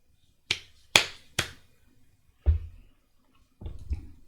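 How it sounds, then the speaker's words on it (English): Sharp hand claps ring out in a quiet room, three crisp ones close together followed by two duller, softer claps after short pauses, with no talking. "And we clap 3 times at the navel center."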